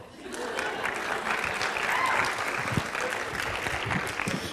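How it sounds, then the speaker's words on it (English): An audience at a regional team training event breaks into a steady wash of dense applause that holds at an even level throughout. "We can clap for that."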